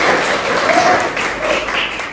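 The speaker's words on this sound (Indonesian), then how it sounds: "Tepuk tangan dulu untuk kita semua." A class of students claps together in a short burst of loud, close, continuous applause with no one speaking.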